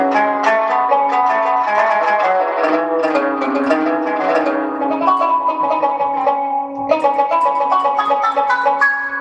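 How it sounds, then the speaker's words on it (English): An electronic keyboard with Middle Eastern instrument voices plays a plucked, qanun-like melody with quick ornamented runs over sustained tones, loud and close, with no voice over it. "It would be a keyboard that has Middle Eastern instruments."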